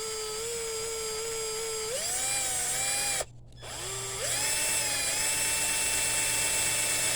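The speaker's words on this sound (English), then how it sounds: "Just drill a little hole." A small hand drill with its smallest bit whines steadily as it bores a little hole in a tin lid, its pitch dipping under load, cutting out for a moment, then rising again.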